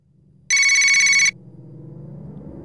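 A telephone rings once in a home during a TV crime drama, a loud bright electronic trill lasting under a second, followed by a low background hum.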